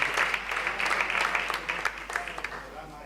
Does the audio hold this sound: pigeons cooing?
no